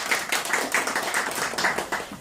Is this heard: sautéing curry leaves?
no